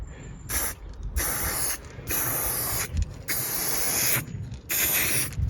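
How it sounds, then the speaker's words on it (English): Several bursts from a spray paint can, each a loud steady hiss lasting about half a second to a second, separated by short pauses, close by. "Basically what I'm going to do is just spray the edges like this."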